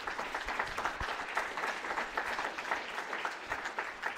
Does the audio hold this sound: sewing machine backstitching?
no